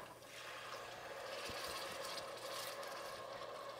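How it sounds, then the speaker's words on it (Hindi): Water is poured into a cooking pan holding onion, ginger and garlic for a kofta curry, giving a steady, close hissing rush that runs evenly for the whole stretch. "अब आपने इसमें थोड़ा सा पानी डाल देना है"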